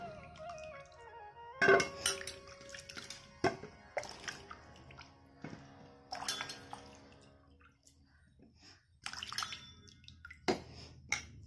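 Onions being washed and lifted out of a basin of water: quiet, sparse sloshes, splashes and drips spread out with pauses, close by and without talk.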